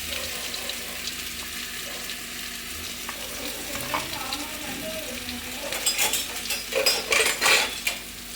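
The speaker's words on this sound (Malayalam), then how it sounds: "നമ്മൾ ചെറിയ ഒരു പച്ചമണം മാറുന്നിടം വരെ നമുക്ക് ഇളകിക്കണം." Pepper, ginger and shallots being stirred as they fry in oil, a steady soft sizzle under scraping stirs that grow louder and busier toward the end.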